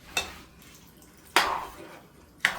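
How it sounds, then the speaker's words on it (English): Pork loin cooking in a pot with added water, stirred with a utensil, giving three sharp scrapes and clanks against the pot with quiet bubbling between. "I'm just going to mix it around."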